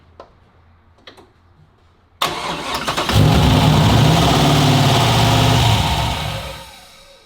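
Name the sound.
Nissan 240SX engine revving with throttle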